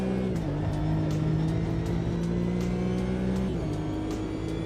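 A racing car engine droning steadily in the sim racing game Automobilista 2, with clear gear-change steps in pitch and a sustained loud buzzing tone, faint rhythmic clicks over it, no talk.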